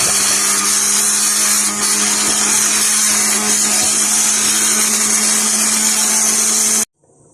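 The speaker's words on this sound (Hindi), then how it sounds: "थोड़ी देर हम हैंड ब्लेंडर के साथ मैश कर लेंगे" Hand blender mashing cooked rice kheer, a loud continuous whirring motor drone that runs steadily for several seconds, then stops abruptly near the end.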